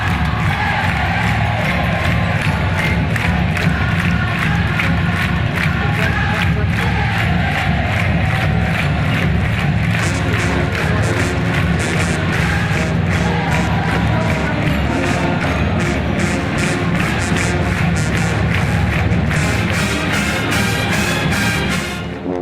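A stadium crowd cheering at a Panthers game, loud and continuous, with a pep band playing in the stands and rhythmic drum hits driving underneath.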